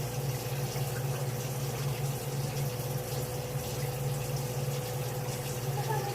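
A kitchen tap runs steadily into a brewing container, filling it with an even, constant rush of water over a low hum.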